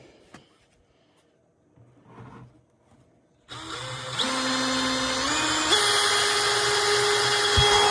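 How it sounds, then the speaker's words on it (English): A power drill bores holes into a plastic bucket being made into a chicken waterer. After a few quiet seconds with faint handling noises, a loud, close, steady motor whine starts and climbs in pitch in steps as it cuts. "you can see the first hole, nicely drilled. Go around and do the rest real quick"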